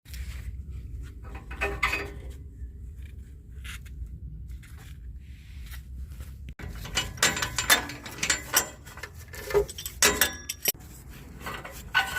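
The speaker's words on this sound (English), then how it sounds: "We're gonna go ahead and remove these O2 sensors real quick." Ratchet wrench clicking while O2 sensors are removed from a 2002 Chevy Astro van with a 4.3 engine, sparse close clicks first, then a denser run of metallic ratcheting and clinks toward the end, no talk.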